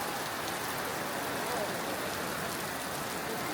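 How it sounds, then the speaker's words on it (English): Heavy summer-night rain pours at a busy outdoor market in China. The downpour is a steady, even hiss with dense patter and a faint murmur of the crowd beneath it. "Heavy rain, but it didn't stop anyone."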